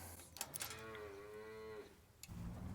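Cattle on a small farm lowing in the morning, one long drawn-out moo close by with fainter rustling and other background sounds around it.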